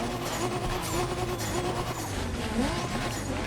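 Toyota car engine in The Crew Motorfest racing game, revving loudly and continuously with repeated rising and falling pitch sweeps as gears shift, mixed with road and tire noise, no talking.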